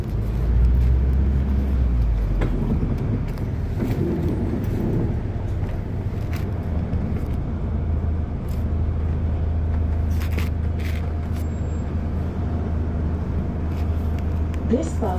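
An Arriva London double-decker hybrid bus, registration LJ11 EFR, drives route 301 from Woolwich toward Bexleyheath town centre, with a steady close engine drone and rumble throughout, occasional rattles and a brief on-board announcement beep.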